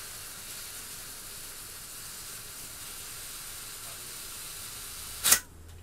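Propane gas fills an airsoft shotgun shell for a Tanaka M870 in a single brief, sharp hiss near the end after a quiet stretch, with no talking.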